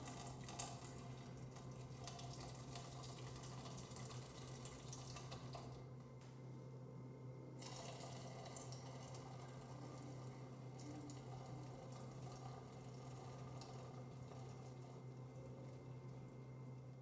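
Liquid poured from three cans into a sanitized container while making a yeast starter, a steady continuous splashing and trickling stream running throughout at moderate level, with no talking.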